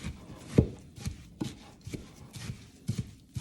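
Granola ingredients are mixed in a bowl, giving soft, faint, irregular knocks and scrapes of a spoon working through the mixture at close range.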